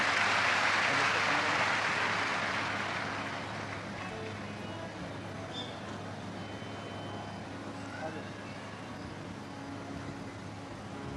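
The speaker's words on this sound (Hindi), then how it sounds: "जोरदार ताली।" A crowd at a live Shiv Mahapuran katha religious gathering breaks into loud applause that starts strong, then fades into a softer sustained patter and murmur of the audience.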